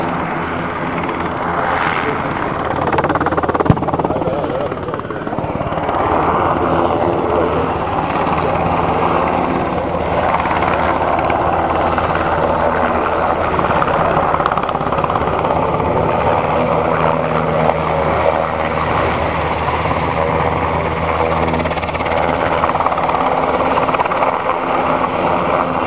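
Military helicopters flying low over the Tanagra airshow of the Hellenic Air Force in 2011, a steady loud rotor and turbine roar filling the whole stretch, with faint crowd and commentary murmur underneath.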